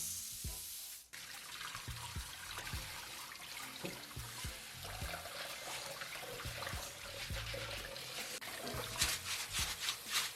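Water pours steadily into a pot over rice with spices and oil for a party rice dish, a continuous close splashing gush with clinks of the pot, no talking.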